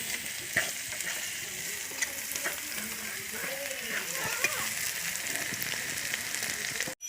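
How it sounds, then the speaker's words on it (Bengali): Chili and garlic frying in oil, a soft, continuous sizzle with occasional light taps of a spatula, faint and steady, with no voices. "লঙ্কা রসুন ভাজা হয়ে গেছে"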